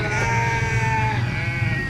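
Ram lambs bleat in a corral, several close, wavering calls overlapping at moderate loudness with faint background noise.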